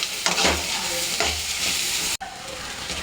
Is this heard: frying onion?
yes